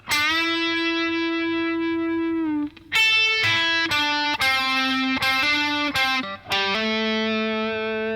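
An electric guitar phrase from a solo played slowly with distortion: a long sustained bend, then a series of separate held notes with brief gaps.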